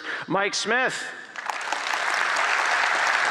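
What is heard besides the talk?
audience applause for a speaker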